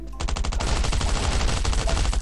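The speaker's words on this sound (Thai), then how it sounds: "เสียงเหมือนกับปืน M4" An M4 rifle fires in the survival shooter Last Island of Survival, sending out rapid automatic bursts of sharp, close shots in quick succession.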